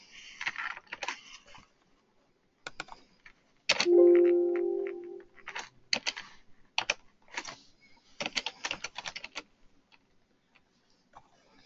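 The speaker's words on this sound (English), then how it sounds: "we're just typing some things in here." Keys clatter on a computer keyboard in close, irregular bursts of rapid clicks separated by short pauses, with a brief steady hum partway through.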